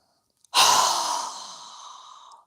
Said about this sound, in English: exhale with our mouth open wide with a very strong exhale